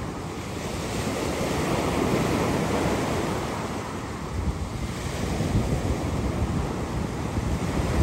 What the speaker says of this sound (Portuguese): Barulho da onda.